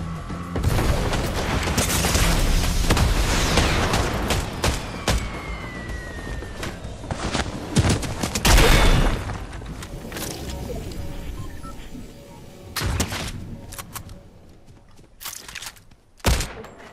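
Loud bursts of gunfire and booming blasts from the Fortnite battle royale game, dense and rapid early on, then scattered sharp shots with quieter gaps and a final burst near the end.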